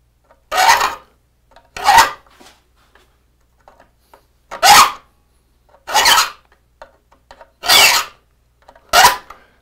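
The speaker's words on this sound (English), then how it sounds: "I can't remember the last time I sharpened this one." A file rasps across a dull blade in six separate strokes, each a loud gritty scrape about a second long, with quiet gaps between them.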